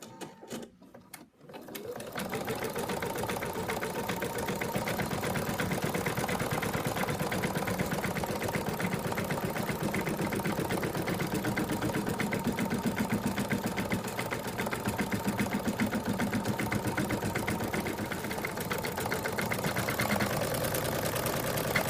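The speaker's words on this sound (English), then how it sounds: "I've put the hoop back into the machine, and I'm now going to stitch out the second outline" Embroidery sewing machine with the hoop fitted stitching out an outline, a steady rapid mechanical whir and needle chatter running continuously after a brief start, close and loud.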